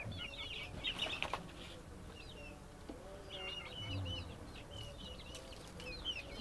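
Janaka free-range chickens in a backyard flock, clucking softly and steadily at a moderate distance, with scattered chirps from other birds in the background.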